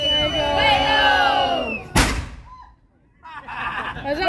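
Voices and a crowd murmur, then a historic cannon at a colonial living-history site in Saint Augustine fires one sharp, loud blast that rolls away into a fading echo before the crowd cheers.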